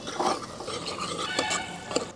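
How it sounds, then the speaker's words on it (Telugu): Sliced onions dropped into hot oil in a frying pan for boti fry, a soft hiss and crackle with light stirring scrapes and clinks, fairly quiet. "ఉల్లిగడ్డలు వేసేసుకుందాం."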